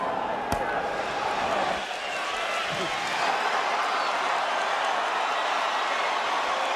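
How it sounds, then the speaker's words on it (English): A huge boxing crowd roars steadily as fans stand in anticipation before the Saúl Álvarez vs. Erislandy Lara fight, a sustained dense wash of cheering with one sharp knock near the start. "Huge crowd in attendance, many of them on their feet in anticipation for this much anticipated fight."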